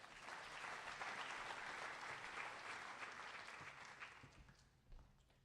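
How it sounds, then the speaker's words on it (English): Banquet guests at a spring agricultural program awards dinner give a steady round of applause, dense and fairly distant, thinning into a few last claps before it ends. "Let's give Jackson a round of applause"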